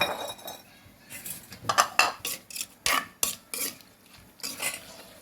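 Dishes and cutlery clatter as bamboo shoot soup is served onto a plate. Irregular clinks, scrapes and knocks of a spoon against crockery come close and fairly loud, in bunched bursts with short pauses between.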